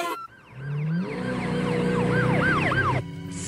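An ambulance siren wails in a 1991 film scene, its rising and falling tone sweeping repeatedly over a low engine rumble, fairly loud and alone without voices.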